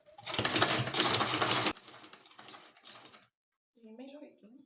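A sewing machine stitches a zipper slowly, running loud and steady for under two seconds before the sound drops to quieter fabric handling, then a person speaks briefly.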